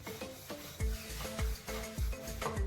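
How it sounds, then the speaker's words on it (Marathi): A rolling pin works sesame flatbread dough on a board, giving soft repeated rubbing and rolling strokes with dull low thuds roughly every half second, close by and fairly quiet, with no talking. "असं गोल गोल गोल गोल फिरवत ही पोळी सगळ्या बाजूने एकसारखी लाटून घ्या."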